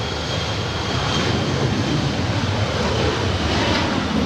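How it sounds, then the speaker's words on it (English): A SkyWest Embraer E175 jet departing Los Angeles airport, its engine roar a steady, broad rumble that holds loud and even throughout, with no speech. "This is Skywest 3652 departing to Sacramento. It's an Embraer E175."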